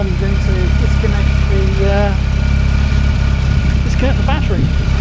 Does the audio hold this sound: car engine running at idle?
yes